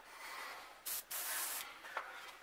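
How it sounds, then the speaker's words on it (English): An airbrush set to low pressure sprays white paint on a crankbait fishing lure in short hissing bursts, soft and close, with brief gaps between passes. "Always test spray off to the side"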